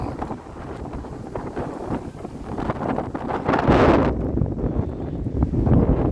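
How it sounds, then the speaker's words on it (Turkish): Strong wind buffets the microphone in a continuous, loud roar with gusts swelling and fading throughout. "çok rüzgar var"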